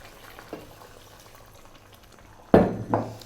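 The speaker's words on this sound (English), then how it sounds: "Super simmer now, nice and low." A pot of curried goat stew with peppers, scallions and potatoes bubbles quietly on low heat, then two sharp bursts of louder bubbling and clatter from the pot come close at the end.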